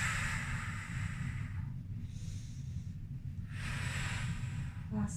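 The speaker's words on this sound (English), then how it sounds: "Breathe in and out." Deep, forceful breaths during a Pilates workout, long rushing inhales and exhales repeating in a steady cycle, close to the microphone with a constant low hum of background music.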